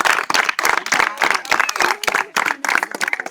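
A small group clapping in a language-learning session, bursts of close, sharp hand claps in an uneven rhythm with brief pauses, a voice faintly mixed in.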